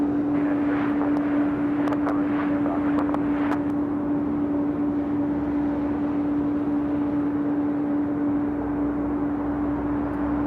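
A jet airliner rolls and climbs out from runway 25 Right at Los Angeles International Airport, a broad steady engine roar with a droning tone, heard from a distance with a few brief clicks early on.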